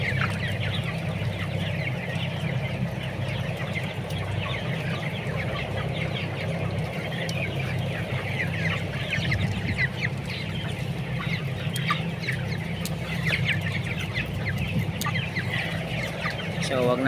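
A flock of broiler chickens clucks and chatters continuously in a poultry house, a steady busy murmur of many birds with a low mechanical hum underneath.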